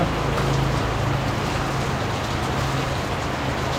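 Steady rain falling, a dense continuous hiss with a low rumble underneath, no voices.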